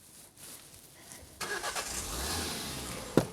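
A car engine cranks and catches, then runs at a rough idle close by after a quiet start, ending with a sharp knock.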